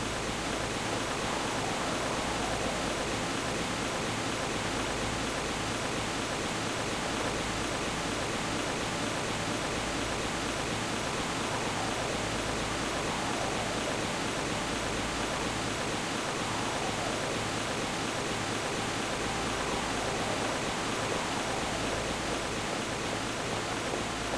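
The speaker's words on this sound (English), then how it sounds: "The picturesque Mizzurna Falls." The Mizzurna Falls waterfall in a video game, a constant dense rush of falling water that stays even and unbroken throughout, with no other sounds standing out.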